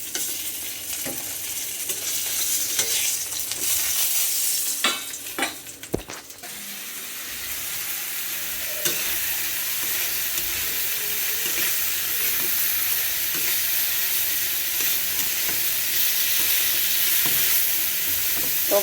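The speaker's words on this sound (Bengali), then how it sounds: "পেঁয়াজ রসুন সমস্ত মশলা কষিয়ে নিয়েছি, আর শাপলাও দিয়ে দিয়েছি" Onion, garlic, spices and water lily stems sauté in a pan, a steady close sizzle and hiss running throughout with occasional stirring scrapes and clinks.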